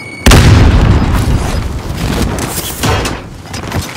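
A frag grenade goes off in Call of Duty Warzone: one sudden, loud, close boom that rolls on into a long, rumbling decay with smaller crackling bursts.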